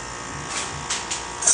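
A vacuum blender hums steadily while drawing air out of a smoothie jar, a continuous buzzing motor tone with a few brief hissing swells, close and fairly loud.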